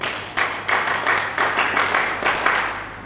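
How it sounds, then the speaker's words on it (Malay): Pupils applaud together at a school closing ceremony for Malay Language Month, a dense, sustained clapping that swells in several waves across the whole stretch with no talk over it. "Semua murid memberikan tepukan yang gemuruh kepada diri masing-masing."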